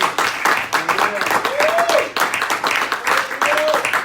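A church congregation claps and cheers for Christ during a lively sermon, rhythmic bursts of applause mixed with voices and a preacher's shouting over them.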